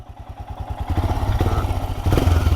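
A Royal Enfield Himalayan motorcycle riding off-road, its single-cylinder engine thumping in a steady rapid pulse that grows louder as it pulls away, close and without talk.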